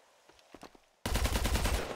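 Gunfire in a survival video game: after a few faint clicks, a dense, loud burst of rapid shots erupts abruptly and keeps rattling to the end, close and harsh.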